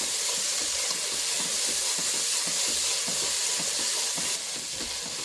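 Ginger garlic paste fries in a hot pan for a Andhra-style chicken biryani, giving a steady, close sizzle and hiss with soft rhythmic stirring scrapes beneath it.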